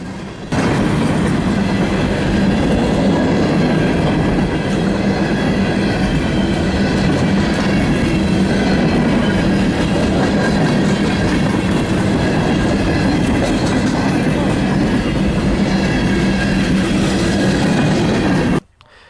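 Freight train rolling through the busy CSX junction at Deschler, with loud, steady rumble and clattering wheels on the rails, close and continuous for nearly the whole stretch, then cutting off abruptly.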